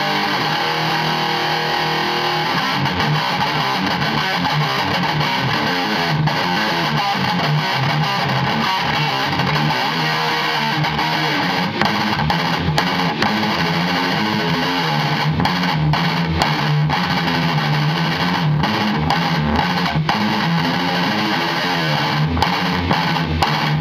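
A distorted electric guitar through a Wampler Triple Wreck or Vox Saturator pedal plays continuously, with crunchy, saturated chords and riffs ringing out loud and alone.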